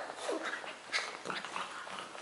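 Young puppies whimper and squeak in soft, high, wavering cries, several short whines overlapping, faint and close against quiet background noise.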